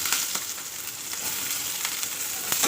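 Sliced onion and green chilli frying in hot oil, a bright, steady sizzle with occasional faint clicks of stirring, close and without any talk.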